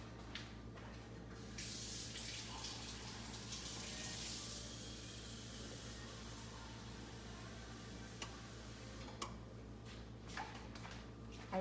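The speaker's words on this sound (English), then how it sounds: "I run the hot water" Hot water running from a kitchen tap while making flan, a faint steady hiss of flowing water with a brief louder spray burst early on and a few small ticks and clinks near the end.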